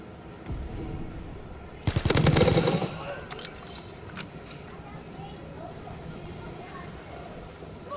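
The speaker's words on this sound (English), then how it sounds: "He gets on the fucking spawn and sprays with LMG" Call of Duty LMG spray: one loud rapid burst of machine-gun fire lasting about a second, followed by a few fainter scattered shots, under ongoing game ambience and talk.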